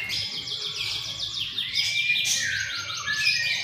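A white-rumped shama (murai batu) sings a long, bright song of rapid chirps, trills and whistled phrases close to the microphone, with a faint low hum underneath.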